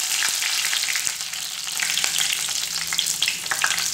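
Curry leaves hitting hot oil with fenugreek seeds in the pan, a loud, dense crackling sizzle that stays steady throughout with a few sharper pops, close by and without speech.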